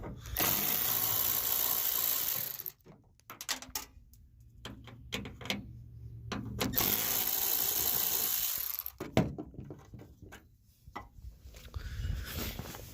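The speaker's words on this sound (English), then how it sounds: "Just take the screws out like so." Tail light screws on a Ram truck being removed with a T20 driver, bursts of close ratcheting and clicking separated by quiet gaps, with brief handling clatter.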